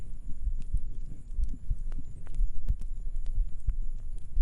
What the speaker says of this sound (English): I'm grabbing you and turning you over so you can hear the heartbeat on the other chest